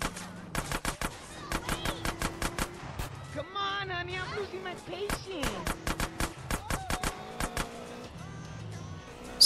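Rapid bursts of gunfire from Grand Theft Auto: San Andreas, sharp repeated shots in quick rhythmic volleys, loud and close, with game voices and effects in between.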